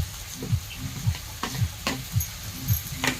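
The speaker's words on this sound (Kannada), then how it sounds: "ನಾನು ಇವಾಗ ಮೆಣಸಿಕಾನ ಜಜ್ಜಿಟ್ಟಿನಿ ಇವಾಗ ಮೆಣಸಿಕಾನ ಹಾಕ್ತೀನಿ ನೋಡ್ರಿ" Crushed chillies fry in a pan, a low sizzle paired with a steady rhythm of scraping stirs roughly every half second, close by and fairly quiet, with no voices.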